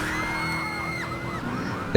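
A police siren wails in Grand Theft Auto III as police chase the player, its tone sweeping up and down over engine noise, moderately loud for two seconds before a sharp louder sound cuts in.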